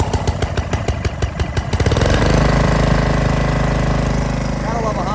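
Honda engine driving a hookah diving air compressor, a loud close chugging that starts as separate pulses and then settles into a steady, dense running drone.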